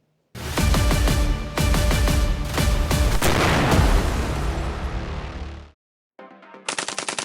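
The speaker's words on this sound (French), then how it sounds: "Kevin, alimente la mitrailleuse." Machine gun fire as a sound effect: a loud, dense burst of rapid automatic shots lasting several seconds, then a short silence and a brief harsher burst at the end.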